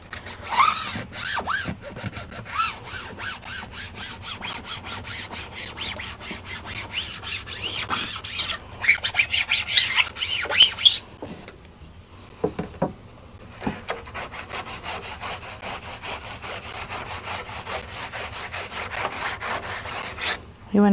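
Vinyl is rubbed down for screen printing, with steady, close scraping strokes in a quick rhythm that go on for about twenty seconds, broken by a short pause midway.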